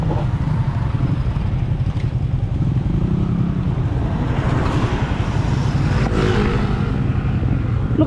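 Motorcycle engine droning steadily throughout on a road trip to Bayumbong in Nueva Vizcaya, a loud constant low rumble mixed with road and wind noise, no talk.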